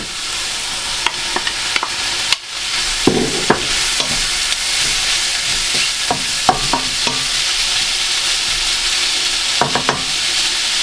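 Bacon fries in a pan with butter-softened mushrooms, giving a continuous loud sizzle with scattered stirring clicks and scrapes, including a brief dip where the sizzle is interrupted.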